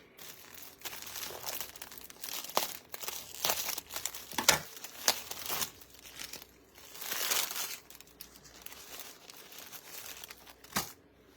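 Crinkly plastic packaging of Dollar General napkins being handled and opened, irregular close rustling and crackling bursts with a few sharp snaps, fairly quiet throughout.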